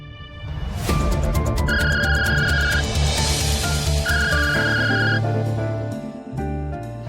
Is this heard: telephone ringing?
yes